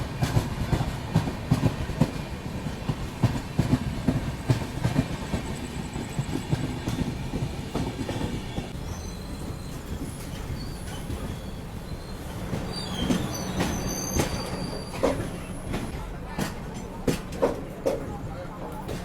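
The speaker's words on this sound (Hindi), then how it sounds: "वैसे ये नेत्रावती एक्सप्रेस जा रही है मुंबई से त्रिवेंद्रम" Netravati Express running from Mumbai to Trivandrum pulls away from a station: a continuous loud rumble of rolling coaches with wheel clatter and brief squeals, some people talking in the background.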